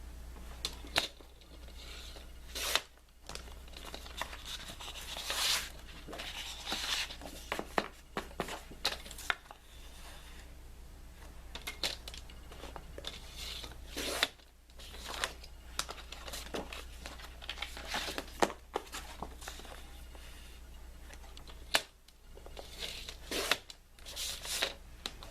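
Several paper sheets being cut along their long side with a crafting tool, producing scattered soft crisp snips, slides and rustles, with quiet pauses between cuts and a steady low hum behind.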